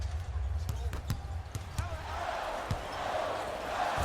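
Sharp rhythmic basketball bounces on a hardwood court in NBA Live 19, several quick thuds followed by a rising crowd roar after a dunk, with commentary talking over it.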